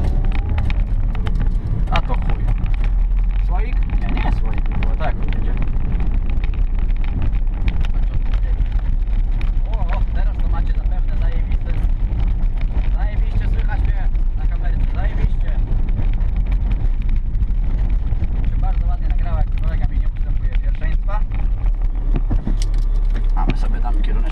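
A car driving on the way to a training session: steady engine and road rumble with wind noise throughout, someone talking over it at times, plus small rattles inside the cabin.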